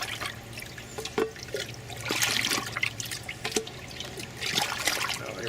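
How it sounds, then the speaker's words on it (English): Fermented liquid fertilizer tea being stirred in a container, giving a gentle sloshing trickle with soft splashes and scattered small knocks, close and fairly quiet. "If I stir it up a little bit, I'll get it darker."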